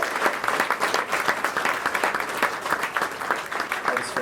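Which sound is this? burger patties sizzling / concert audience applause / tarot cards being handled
concert audience applause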